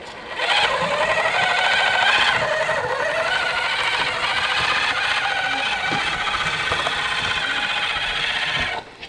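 Small electric motor of a budget RC crawler driven by an Injora MB100 ESC, held steadily on throttle with a continuous whining hum that starts abruptly, stays level at close range and cuts off at the end, with no talking.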